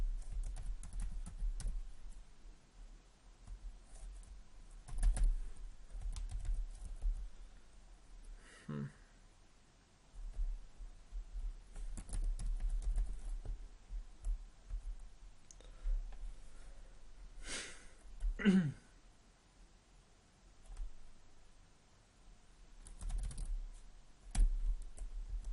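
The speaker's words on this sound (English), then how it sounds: "I'll just quickly write in" Light, scattered tapping of fingers on a computer keyboard while HTML code is typed, quiet and close, coming in short bursts with pauses and occasional breathing between them.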